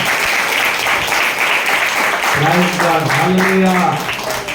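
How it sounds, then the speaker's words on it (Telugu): A church congregation claps loudly and continuously at an Easter Day service, a dense near wash of applause with a voice speaking over it midway. "మరొకసారి గట్టిగా చప్పట్లు కొట్టి దేవుని మహిమపడతాం"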